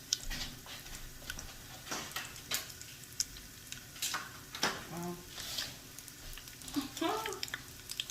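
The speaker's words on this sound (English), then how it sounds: "Alright guys, so we're going to start to put the tofu in there." Tofu sizzles and crackles steadily in a hot pan for a sweet and sour dish, with occasional clicks and stirring scrapes, and a voice speaking briefly over the frying near the end.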